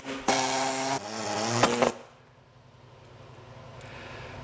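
A power tool cuts off a part on a GMC motorhome, a loud high-pitched whine that runs close for about two seconds, then stops abruptly into faint background noise.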